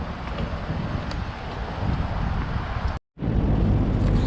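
Strong wind in Qatar roars and buffets the microphone continuously, broken by a brief cutout of silence before the gusting resumes.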